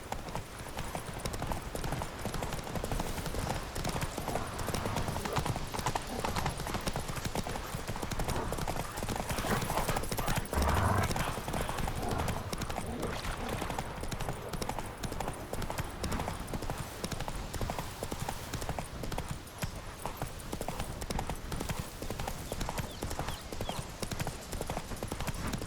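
Roach, Geralt's horse in The Witcher 3, trots with a steady clip-clop of hooves under loud, dense ambient noise and wind, with brief speech partway through.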